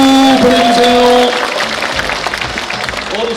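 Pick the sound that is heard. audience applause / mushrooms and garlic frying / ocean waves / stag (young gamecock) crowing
audience applause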